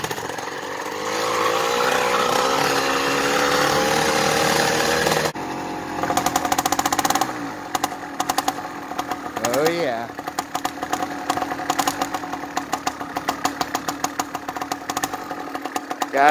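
A 49mm iron-sleeve engine converted to run on pure ethanol idles and revs, its buzzy two-stroke-style note steady and loud with sharp throttle blips near the end, while people talk over it.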